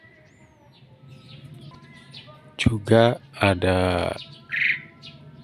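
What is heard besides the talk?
jalak suren (Asian pied starling) calling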